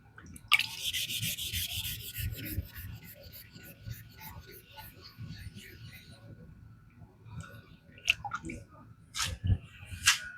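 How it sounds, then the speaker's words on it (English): A rust eraser scrubs briskly across the blade of a Hightron Hot 14C28N steel knife, a close, gritty rubbing that is strongest at the start and then trails into softer strokes and small clicks. "Just using a rust eraser on it real fast."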